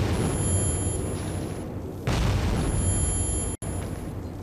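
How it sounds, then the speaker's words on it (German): A grenade in Metro 2033 goes off as one sudden, loud blast partway through, over a constant background drone with thin steady tones. "Oh, Granate."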